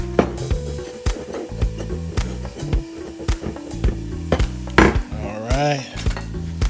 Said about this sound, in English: Stir these onions up in here. Got a little olive oil in here for my fat.